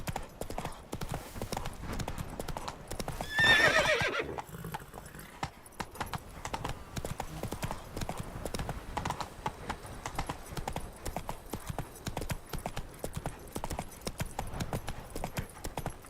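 Roach, the horse in The Witcher 3, gallops with rapid, loud clip-clopping hooves that continue steadily throughout, with a brief burst of noise early on and occasional talk over the riding.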